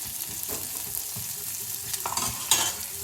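Onions fry in a pan, with a faint, continuous sizzle broken by soft scraping strokes as they are stirred, heard close and on their own without talk.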